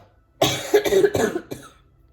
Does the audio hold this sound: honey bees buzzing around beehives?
no